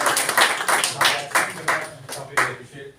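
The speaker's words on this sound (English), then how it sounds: "you give him a round of applause?" Small group clapping for a newly qualified member at a business presentation in Melbourne, Australia, quick uneven claps close by in a room, with speech mixed in.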